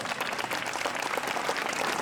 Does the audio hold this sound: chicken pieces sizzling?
no